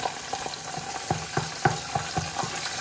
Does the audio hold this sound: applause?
no